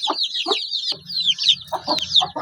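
Several fighting-breed chickens cluck and squawk in short, agitated bursts close by, overlapping one another with a low rustling underneath.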